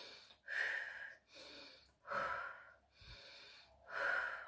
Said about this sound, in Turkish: İlk önce burnumuzdan nefes alıp ağzımızdan veriyoruz.